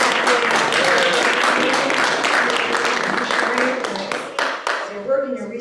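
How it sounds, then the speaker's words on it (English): Audience applause for a keynote speaker at an XR summit, a dense, steady clapping that fills the room and fades slightly toward the end as a voice begins speaking over it. "If you would give her one more round of applause."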